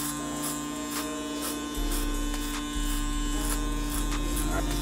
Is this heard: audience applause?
no